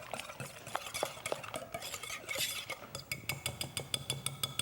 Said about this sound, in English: I am going to whisk that together just to get them, mixed together.